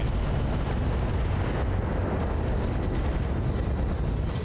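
A dense, roaring barrage of SRM missiles fires from a mech in the BattleTech game, loud and continuous throughout with a rumbling low end.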